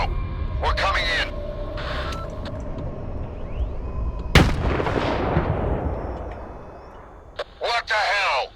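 A heavy explosion and gunfire in the video game S.T.A.L.K.E.R. 2: Heart of Chornobyl, one sharp loud blast with a roaring tail over steady ambient rumble, with brief game voices and radio chatter around it.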